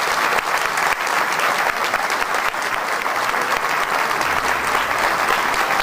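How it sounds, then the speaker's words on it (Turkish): A theatre audience applauds a performer who is about to play the saz at a Turkish music concert, the clapping steady, dense and loud throughout with no voices over it. "Alkışlar onun için."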